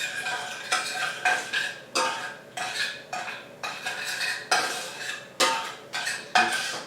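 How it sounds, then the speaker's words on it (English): A spoon scrapes and knocks steadily around a bowl of vegan Christmas trifle mixture, in repeated strokes roughly twice a second, close and clear with no talking. "Keep mixing until you get all the little lumps out."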